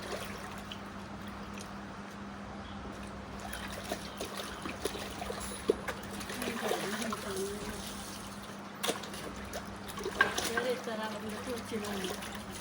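Steady trickling water runs continuously at low level, with faint voices and occasional clatter in the background.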